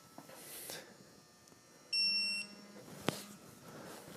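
An electronic beep sounds once, a sustained tone for about half a second, followed by a sharp click and a softer low buzz amid quiet background noise.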